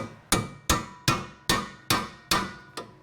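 Hammer tapping strut bolts into place during a 2004-2007 Chevy Malibu shift solenoid repair: seven sharp metallic taps in a steady rhythm, close and loud, with no talk.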